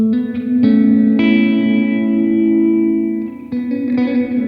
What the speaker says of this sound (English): Slow morphing for subtle, transformative tone, and faster morphing for tremolo-like movement or panning effects in stereo too.